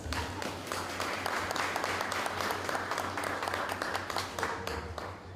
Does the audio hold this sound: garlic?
no